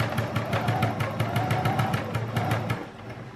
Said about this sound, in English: thank you sewing machine, I didn't ask you to stop.